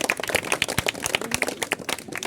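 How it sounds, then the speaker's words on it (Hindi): Children at an outdoor street play for a village procession clap loudly together in quick, uneven, dense applause that continues steadily from start to finish. "जोरदार ताली बजाइए बच्चे लोग सबसे पहले"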